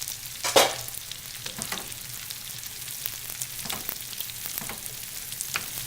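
Baby portobello (cremini) mushrooms sautéing in a pan for a pancetta and walnut risotto. A soft, steady sizzle runs under occasional stirring scrapes and one sharper clatter near the start, close and without speech.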